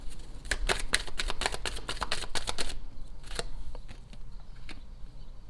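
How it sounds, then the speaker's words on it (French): Tarot cards are shuffled in a rapid run of crisp riffling snaps, then a few separate, quieter flicks as cards are drawn and laid down, close and with no talk. "On va tirer toutes les cartes"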